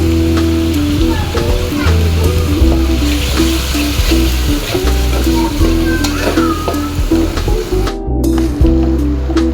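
Ginger paste fries loudly for biryani with whole garlic in a hot pan, a dense continuous sizzle and spatter under a low steady hum, with brief stirring scrapes throughout.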